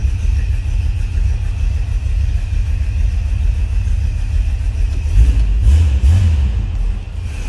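A 1956 Chevrolet Nomad with its 265 Turbo-Fire V8 running, a loud steady low rumble at idle close by, followed by a couple of brief revs near the end.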